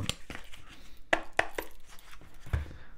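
A green-magic tarot deck being cut by hand: a handful of crisp, close card slaps and clicks scattered over a few seconds, with no talking.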